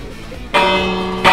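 A loud bell rings out in the online game Hell Abyss 3, its bright, sustained tones starting abruptly partway through and swelling again with a second strike near the end, with no talk over it.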